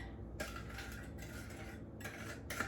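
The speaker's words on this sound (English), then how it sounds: "I'm just using just a scooper here just to kind of make them a little bit even and just putting them right in" A scooper scrapes keto chocolate cake batter into ramekins in a home kitchen, giving a few quiet metallic scrapes and taps against a steady low background hum.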